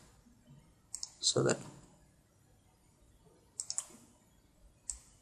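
Computer mouse clicks at a desk while working in GIS mapping software, a few quick, sharp clicks in small clusters heard close but faint, with someone talking quietly over them.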